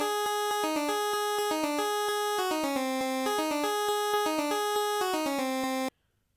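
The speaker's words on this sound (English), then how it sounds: "that's the sound of a pulse wave. It's got that buzzy 8-bit sort of sound" Buzzy 8-bit pulse wave channel of a Game Boy sound chip playing a quick, even melody of short staccato notes, bright and steady for about six seconds before cutting to silence, with no voices.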